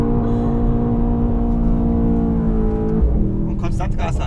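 A Mercedes-AMG GT63S in second gear gives a loud, close engine drone from inside the cabin that shifts pitch as it accelerates, with a voice speaking over it near the end.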